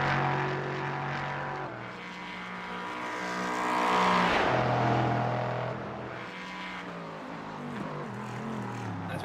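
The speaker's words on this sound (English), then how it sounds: "listen to the wonderful reverberations of that V8 engine, with Vessels in to the pit lane here" V8 race car engine of a GT3 prototype roaring around the Circuit Gilles Villeneuve track, a steady loud drone that swells to a peak midway as the car passes, then settles into a sustained high-revving whine.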